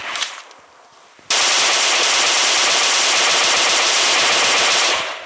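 Gunfire in a sandbox video game, a brief shot at the start and then a loud, unbroken burst of rapid automatic fire lasting about four seconds before cutting off.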